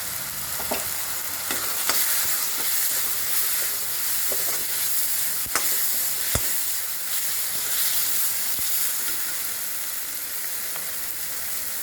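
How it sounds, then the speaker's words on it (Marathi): Spice masala of red chilli powder, coriander powder, biryani masala and turmeric, mixed with biryani leaves for egg biryani, hisses and sizzles steadily in a pan. Occasional clicks and scrapes of a stirring spoon sound close by. "हे 7-8 बिर्याणीचे पानं ते पण मिक्स करू।"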